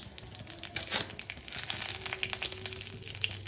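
Fennel seeds and dried red chilies temper in hot oil in a pan, giving a steady close sizzle and crackle with soft popping throughout.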